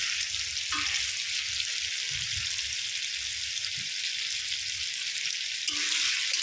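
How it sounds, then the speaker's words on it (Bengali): Sliced ridge gourd fries in a generous amount of oil, giving a steady, dense sizzle that runs unbroken and close throughout, with a few faint low knocks of the pan or spoon. "আমি একটু তেল বেশি দিয়ে ভাজছি"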